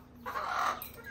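A country rooster gives a single short cluck, close and fairly quiet, with no other sound around it.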